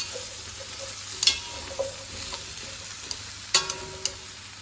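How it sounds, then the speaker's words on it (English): Mushrooms, carrots and onion are stirred into a pot with browned lamb, a soft, close sizzle under several sharp scrapes and knocks of the spoon against the pot. "Now we're chucking in the mushroom, the carrots and the onion, and we're going to give them a bit of a mix around."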